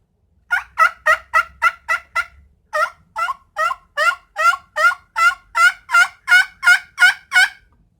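Diaphragm turkey call working a raspy, older-hen voice: a person imitates turkey yelps in a steady series of about sixteen loud, close, evenly spaced notes, quickening slightly at the start, with no talking.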